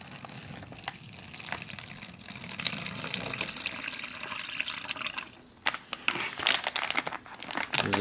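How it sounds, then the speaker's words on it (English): Six ounces of water pour and splash into a crinkly plastic MRE drink pouch, with rustling and crumpling of the bag mixed into the steady trickle, close up. "add the 6 ounces of water to this."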